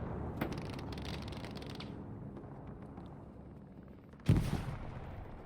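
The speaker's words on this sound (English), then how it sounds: "Grenades." Grenade explosions and gunfire in the World War II shooter Hell Let Loose at Sainte-Marie-du-Mont, with distant shots crackling through steady battle noise before one loud, close blast near the end.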